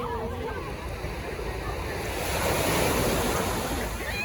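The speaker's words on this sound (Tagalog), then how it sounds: "Lakas ng alon oh. Grabe yun." Powerful ocean surf at Repulse Bay, Hong Kong, rolling and crashing nearby, a dense roar of water with wind buffeting the microphone and faint voices underneath.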